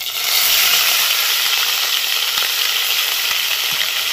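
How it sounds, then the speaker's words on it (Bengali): Onion paste for a prawn malai curry fries in hot oil with a loud, continuous, close-up sizzle and hiss. No one speaks. "একটুখানি ভেজে নিয়ে এর মধ্যে দিয়ে দিচ্ছে পেঁয়াজ বাটাটা"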